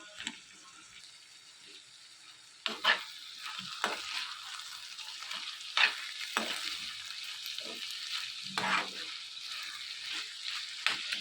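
Eggplant pieces cooking down in a pan for a tomato curry: a soft continuous sizzle with scattered scraping stirs and clinks of a spoon against the pan, jumping louder partway through, no talking.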